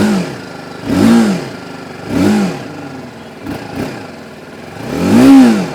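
Close, loud throttle bursts from a 2025 TVS Apache RTR 310 motorcycle, with three or four separate revs rising and dropping back to a steady idle between them.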